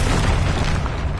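A single loud, close blast from the Confringo blasting spell in the video game Hogwarts Legacy, one broad booming burst that fills the whole moment.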